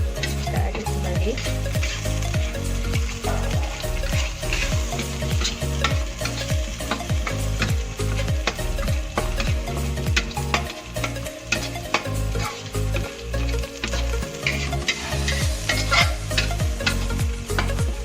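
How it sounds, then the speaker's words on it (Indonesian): Loud, continuous sizzling of sambal goreng with tempeh, anchovies and peanuts frying in a pan, with a spatula scraping and stirring in a steady rhythm throughout. "Kita aduk kembali."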